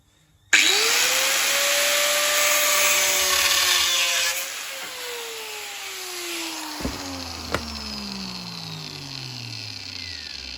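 An angle grinder cuts metal for a handmade metal flower. It starts abruptly with a loud high whine that dips and slows as the blade bites, then runs on more quietly, with a couple of sharp clinks near the end.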